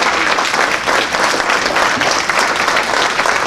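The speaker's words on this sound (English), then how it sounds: "let's give him a round of applause" Steady, loud applause from a crowd at a networking event and reception, a continuous wash of many hands clapping together with no break.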